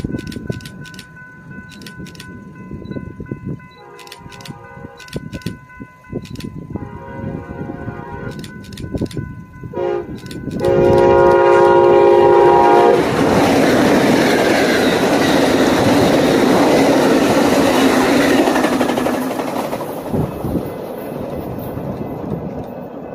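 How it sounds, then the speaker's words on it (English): Amtrak 715, a passenger train, passes Avenue 9 in Madera: horn blasts sound first in several bursts, then the train rushes by loud and close with a sustained roar and rail clatter before easing off. "here comes Amtrak 715 passing by Avenue 9"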